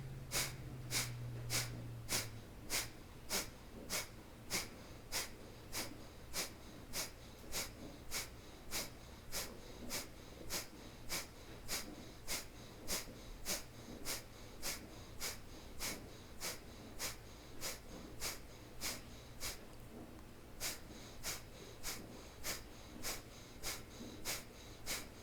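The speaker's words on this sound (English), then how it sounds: "Inhale and exhale through the nose." Rhythmic forceful nasal exhales in a yoga breath-of-fire practice: a long, steady train of sharp, evenly spaced puffs, roughly one per second, close and clear with a low background hum and no talk.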